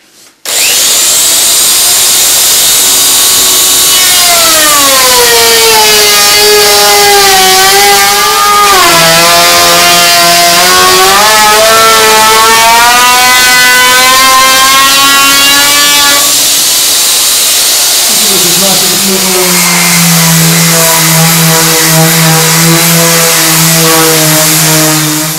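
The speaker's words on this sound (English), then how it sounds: "I'm going to use a router with a moulding blade just on this section on the other side" A power router with a moulding bit whines loudly and continuously, its pitch rising and falling as it cuts into oak, with no talking.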